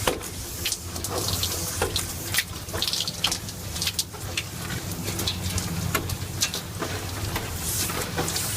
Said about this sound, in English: just let the water hit the window and cascade down